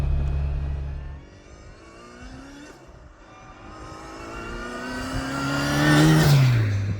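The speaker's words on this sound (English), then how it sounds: "the turbo making all the noises as well in the background" A turbocharged, modified classic Mini with 150 horsepower and a straight-cut gearbox revs hard, engine pitch climbing steadily to a loud peak with whistling turbo whine, then dropping off.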